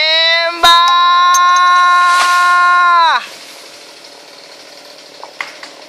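Chainsaw cutting down a coconut palm: a loud, steady engine whine for about three seconds cuts off abruptly, followed by rustling and crackling as the tree comes down, with faint voices in the background.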